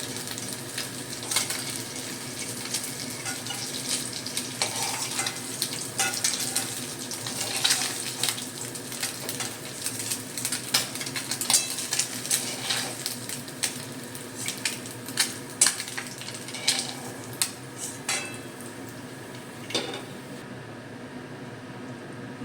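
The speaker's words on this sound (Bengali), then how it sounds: "বাকি মাছগুলোকেও বন্ধুরা আমি ভেজে নেব" Steady crackling sizzle of small mourala fish frying in hot oil, with scattered sharper pops and clinks throughout, fairly close and moderately loud.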